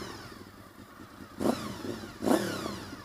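A 1998 Honda VFR 800 FI V4 motorcycle engine idles, then revs sharply twice in quick succession, each rise loud and close before settling back to a steady mid-pitched rumble.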